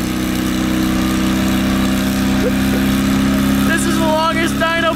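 An American performance car engine at high revs on a dyno gives a loud, steady, droning roar that holds without letup, while excited voices shout near the end.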